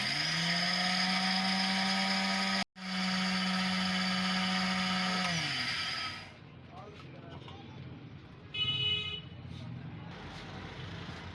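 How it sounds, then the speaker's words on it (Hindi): An electric grinder whirs loudly and steadily as it grinds white pulao masala spices, briefly cutting out once, then running on for a few more seconds before spinning down to quieter rattles and background noise. "तमाम मसाला हमारा अच्छी तरह से पिस चुका है।"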